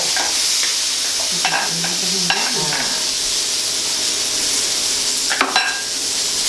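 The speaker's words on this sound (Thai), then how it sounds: "แล้วก็คั่วไปนะคะคั่วให้หอมหอม คั่วให้สุก" Northern Thai pork larb is stir-fried in a pan, with a steady loud sizzle under repeated scraping strokes of a spatula against the pan, close up and continuous throughout.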